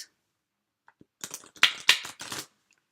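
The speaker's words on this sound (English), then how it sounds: "So let me just shuffle, and I'll pick a card." A deck of chakra reading cards riffled and shuffled by hand, a few soft taps then a quick burst of crisp flicking clatters lasting about a second and a half, close and otherwise quiet.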